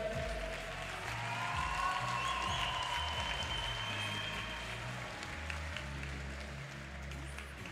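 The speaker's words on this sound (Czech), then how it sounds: "prosím o potlesk pro obě zápasnice" Applause from the crowd at a K-1 kickboxing event for two female fighters in the under-56 kg class, a broad steady wash of clapping under a low electronic hum, with no speech.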